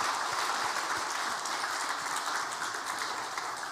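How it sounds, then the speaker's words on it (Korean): A church congregation at a Sunday service applauds its choir, a soft, continuous patter of many hands clapping heard from some distance, steady and fairly quiet throughout. "시온 찬양대 위해서 1년 동안 거 한번 박수 한번 해보시라"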